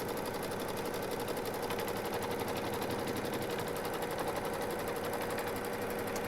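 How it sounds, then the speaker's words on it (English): A Baby Lock embroidery machine stitches a straight line through fabric over mesh stabilizer, its needle producing a fast, even, continuous mechanical chatter, close and steady with no talk. "it's just going to stitch down a straight stitch"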